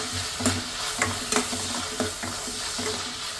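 Finely chopped ginger and spices sautéing in a pan for chicken spaghetti, a loud steady sizzle broken by regular scraping stirs roughly every half second, close up with no voices.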